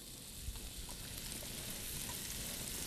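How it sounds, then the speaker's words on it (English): Onions sautéing in a couple tablespoons of oil in a hot pan, a steady close crackling sizzle with faint scattered pops throughout, no voices. "we're going to saute our onions"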